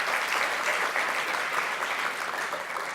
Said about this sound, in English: we should give applause to those who've been serving us